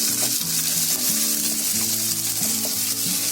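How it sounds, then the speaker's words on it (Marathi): Finely chopped onion and two green chillies hiss steadily in hot oil with garlic fried until red, a continuous close sizzle with a faint low tonal hum underneath and no talking. "आता त्याच्यामध्ये पाव कप कांदा आणि 2 हिरवी मिरची हे बारीक कापून घेतले ती टाकते."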